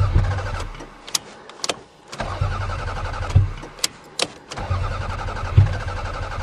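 A Toyota engine cranking repeatedly on a snowy cold start with a failing fuel pump, heard as several short bursts of starter whir separated by pauses and sharp clicks, never catching into a steady run.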